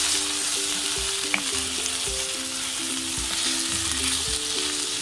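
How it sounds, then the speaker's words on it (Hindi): Minced beef and mixed mince sizzle with browned onions in a pan, giving a constant close frying hiss over a low steady hum, with soft stirring scrapes. "तो इसे ज़रा सा भूनेंगे जब तक इसका कलर बदलता है"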